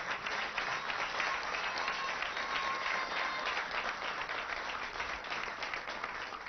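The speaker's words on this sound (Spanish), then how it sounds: "Un aplauso para todos ustedes," Sustained, dense applause from an audience at a televised Venezuelan government event honoring health workers, steady and fairly loud throughout with no pause.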